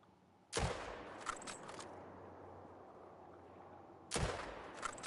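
Two loud, sharp rifle shots fired at an animal in theHunter: Call of the Wild, about three and a half seconds apart. Each crack leaves a rolling echo and a soft mechanical click, with a quiet outdoor background between the shots.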